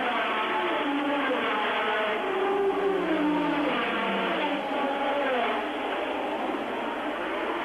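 Formula One cars racing at the 1985 Monaco Grand Prix, a continuous loud engine roar with shifting pitch as cars pass, under a commentator's talk.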